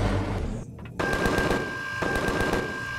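Gunfire in the space survival game Empyrion: rapid automatic bursts crackle in quick succession, broken by a short gap, then resume in steady rattling volleys, loud and close with no talking.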